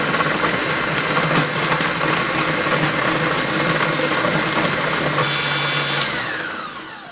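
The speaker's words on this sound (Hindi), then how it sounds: "ये अब हम टमाटर को भी पीस रहे हैं" A mixer grinder runs loud and steady, grinding tomatoes finely for palak paneer, then winds down and slows near the end.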